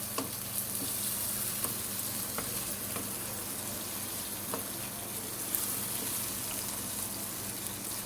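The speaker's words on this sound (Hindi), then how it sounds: "अच्छी तरह से इसको फ्राई करेंगे जब तक इसका चिकन का कलर चेंज ना हो जाए" Chicken pieces frying in a pot with cloves, black pepper and cinnamon for an aloo chicken shorba, a steady soft sizzle with faint crackles and stirring.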